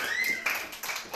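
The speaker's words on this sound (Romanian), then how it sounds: "Super, aplaudăm tare," Children in a kindergarten at a magic show clap together in brief, uneven bursts, fairly close and moderately loud, with faint voices mixed in.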